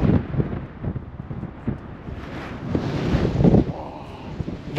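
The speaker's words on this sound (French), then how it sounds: "Un peu de vent, mais ça va." Strong wind at the North Cape in Norway buffets the microphone in low rumbling gusts that swell and fade, with an open outdoor hiss and no voices.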